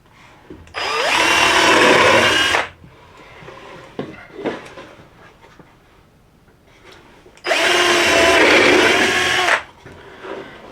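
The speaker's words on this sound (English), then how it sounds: "So let me go ahead and drill this." A power drill whirs loudly into wood in two bursts of about two seconds each, separated by quieter handling noises and small knocks.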